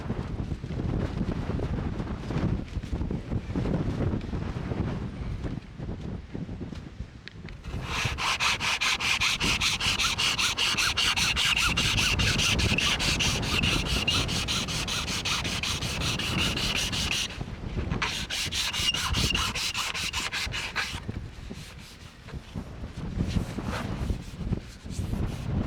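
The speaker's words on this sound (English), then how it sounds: "So now I had to remove what remained of the oak plugs and reinstall them." Rotted oak screw plugs being scraped and sanded out of teak handrails on a boat cabin top, with a steady rasping rub that runs in long continuous stretches broken by short pauses, outdoors with some wind noise.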